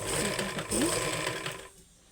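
A sewing machine stitching fabric runs in a steady close whirring burst for about a second and a half, then stops, leaving quiet room tone.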